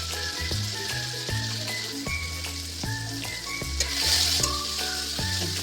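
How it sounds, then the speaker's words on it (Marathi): Tomatoes sautéing in oil for a boiled-potato fasting vegetable dish give a steady, close sizzle with soft stirring, continuous throughout with no talk. "टोमॅटोला तेल सुटेपर्यंत चांगला परतला तेलावर."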